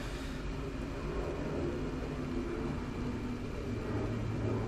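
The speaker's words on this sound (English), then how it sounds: "Now there's a plane going past. It's noisy outside at the moment." An airplane passes by outside, a faint, steady low rumble and broad roar that holds evenly without clear peaks, distant and muffled.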